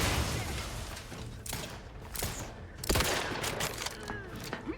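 Gunfire crackles through a firefight in The Outer Worlds 2, with scattered bursts and sharp shots over a steady game background, fairly quiet overall with faint voices now and then.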